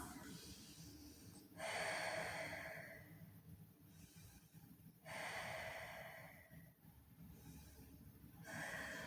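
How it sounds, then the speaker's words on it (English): Deep, slow breaths in a yoga forward-fold stretch, three audible cycles of long nasal inhales and exhales, quiet and close, with soft rushing air and no speech. "Let's take about 3 to 5 breaths."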